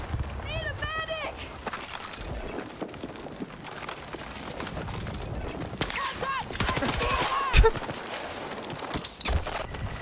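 Gunfire crackles through a shooter video game match, with scattered shots, bursts and sniper fire mixed under a player's voice and in-game chatter, one sharp loud crack standing out near the end.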